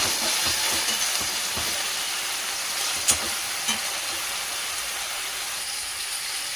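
Tomatoes and drumsticks fry in a pan with a steady hiss and sizzle, stirred now and then with a few soft scrapes and knocks, close and continuous.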